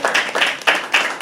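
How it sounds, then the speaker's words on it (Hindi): A short round of clapping from an audience at a live poetry open mic, about five loud, close claps in an uneven rhythm. "एक बार अपने होस्ट के लिए जोरदार तालियां।"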